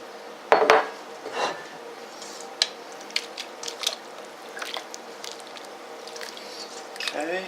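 Homemade butter being massaged and pressed in a bowl to squeeze out buttermilk, giving soft wet squishes, drips and light clinks against the dish, with a sharp knock near the start and occasional scrapes.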